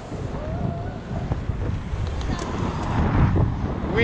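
Strong wind buffets the microphone in a constant low rumble, with rushing air and a faint voice underneath.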